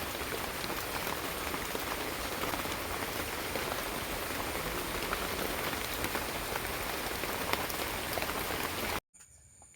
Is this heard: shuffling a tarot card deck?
no